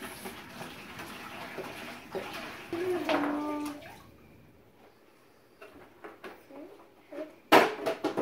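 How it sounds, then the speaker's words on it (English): Water is poured into a bucket while making borax slime, a close splashing gush that swells for a few seconds and then stops, followed by scattered knocks and clatter. "in this bucket, we need to add 1 gallon of water"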